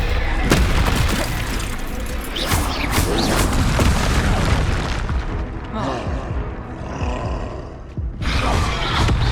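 Repeated Confringo blasting-curse explosions in the Hogwarts Legacy video game, loud booming bursts with crackling debris and roaring rumble, followed by a quieter fizzing tail and one more blast near the end.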